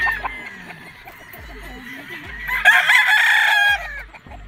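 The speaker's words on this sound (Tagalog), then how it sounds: "Mga battle stag to mga tol." Battle stag gamecocks at a gamefarm crow loudly and close, one long crow rising into a strong second call, with scattered clucks and low handling thumps around them.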